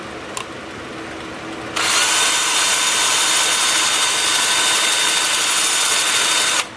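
A wood turning lathe spins up with a workpiece mounted, a brief knock followed by a sudden steady loud whirring hum that holds for several seconds and then cuts off.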